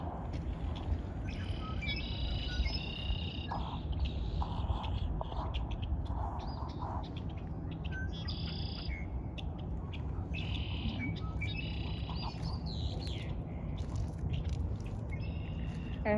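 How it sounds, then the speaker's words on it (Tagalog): Many birds chirp and sing in Millwoods Park, overlapping bright trills and tweets from several directions against a constant outdoor hiss, moderately near and continuous throughout with no talking. "Nakakatuwa yung mga ibon"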